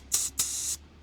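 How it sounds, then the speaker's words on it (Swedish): Three short hissing bursts from a spray bottle of soapy water misted onto a freshly mounted Mitas Enduro Trail XT+ tire on a KTM 890 Adventure R to check for leaks. The spray is close and clear with no voices. "Så kan man bara spraya den sista gången och se så att det inte är några uppenbara"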